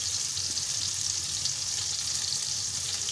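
Soya chunks fry in a pan, giving a steady, close hiss of sizzling oil with a faint low rumble beneath, constant and unbroken.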